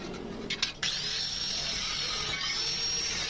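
Power tool cutting square iron tubing for a roof frame, a steady high grinding whine holding for most of the clip after a few brief starts and stops, close and loud with no talk.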